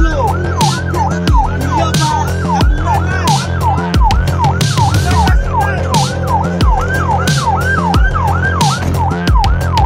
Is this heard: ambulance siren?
yes